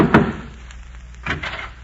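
Heavy wooden door of an old inn in a radio drama, a solid thump followed by a second knock or rattle, close and dry with no voices.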